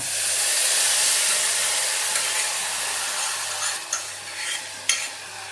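Cooked moong dal goes into a hot tempering of oil, asafoetida and turmeric, giving a loud broad hiss that slowly fades, with a couple of stirring knocks near the end.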